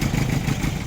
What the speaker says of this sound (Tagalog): namamalya po yung engine at hard starting